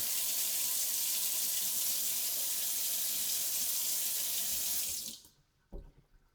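A kitchen faucet fitted with temperature-sensing color-changing lights runs a steady, close hissing stream of water for about five seconds, then shuts off, leaving a brief thump and quiet.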